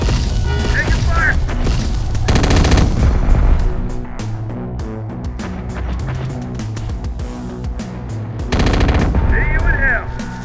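Gunfire and heavy explosions from the video game Terminator: Dark Fate - Defiance, loud and sustained with dense bursts and booms layered under a music score.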